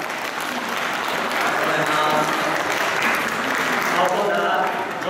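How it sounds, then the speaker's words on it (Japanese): A crowd at a women's professional wrestling show in Japan claps in a thick, sustained wave of applause, while an announcer's voice carries faintly beneath it. "拍手お願いします。"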